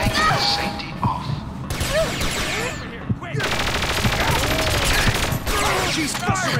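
Automatic and single gunfire bursts in the shooter Perfect Dark Zero during a security alert, loud rattling volleys with a short gap, mixed with game voices.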